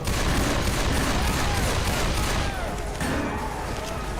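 Dense, sustained gunfire from several weapons shooting at the Tank in Left 4 Dead 2, a continuous loud clatter of overlapping shots.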